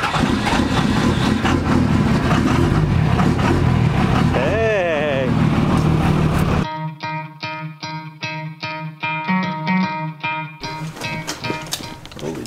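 Cold Cummins diesel truck engine cranking in icy weather, a loud sustained churn that catches into a rough, rhythmic idle, with voices faintly heard.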